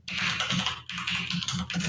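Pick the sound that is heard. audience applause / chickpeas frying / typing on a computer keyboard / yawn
typing on a computer keyboard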